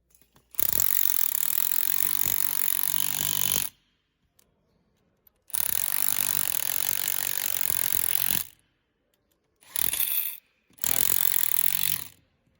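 A Milwaukee power tool whirs in three to four sustained bursts, each a few seconds long with short pauses between, fastening parts on a CV axle half shaft during a military Humvee install.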